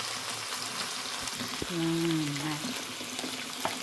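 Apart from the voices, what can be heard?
garlic frying in a pan for pork steak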